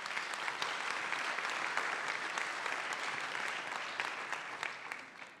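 Audience applause at a public forum on social policy in Mexico City, steady, moderately faint clapping sustained for several seconds and thinning toward the end.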